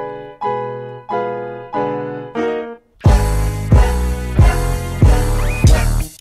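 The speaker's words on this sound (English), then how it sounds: "I basically played 1 octave and then copied and pasted it." A piano line played across a single octave and repeated, first as a bare stepped phrase of plucked notes, then joined by a full, loud hip-hop beat with heavy bass hits; no voices.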